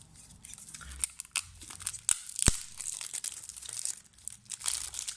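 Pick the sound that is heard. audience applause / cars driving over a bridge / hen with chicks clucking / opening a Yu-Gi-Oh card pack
opening a Yu-Gi-Oh card pack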